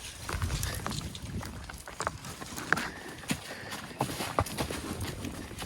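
A horse walks through a creek on a trail ride, its hooves clopping and splashing in uneven steps close by, with rippling water throughout and no talk.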